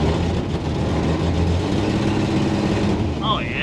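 A 1954 Chevy hot rod engine rumbles with a steady, loud, low drone, its exact phase unclear, while a voice talks over it.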